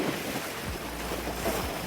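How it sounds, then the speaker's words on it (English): Strong wind roars across the microphone with a constant broadband rush, mixed with water splashing and boat noise while cruising into the wind off Valletta, Malta, loud and steady throughout. "pretty windy here."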